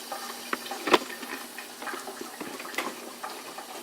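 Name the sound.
sauce boiling in pot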